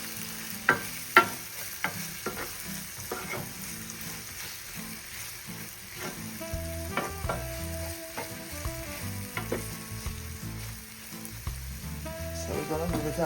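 Onion and garlic sear in a hot pan with a continuous crackling sizzle, punctuated by scattered sharp pops and utensil clinks, growing louder toward the end; no talk.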